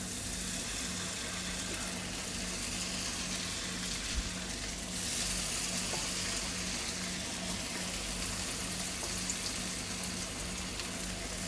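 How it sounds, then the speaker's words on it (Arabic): Beef steak strips sizzling and crackling as they are dropped into hot oil for Mongolian beef, a steady dense frying hiss filling the whole stretch at close range, with no talking. "الدهن صار حار، أنزل فيه الستيكات"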